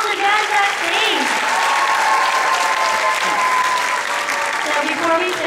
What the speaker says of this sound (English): round of applause for all the moms again backstage